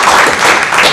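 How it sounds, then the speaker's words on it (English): A church congregation gives a big hand clap during a Methodist service, a brief, dense and loud burst of many hands clapping together. "let's just give God a big hand clap"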